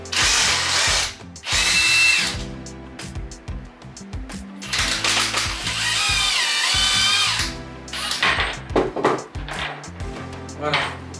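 A brushless 18-volt impact driver drives screws in loud, close bursts of rattling hammering, stopping and restarting several times, with someone speaking briefly between runs.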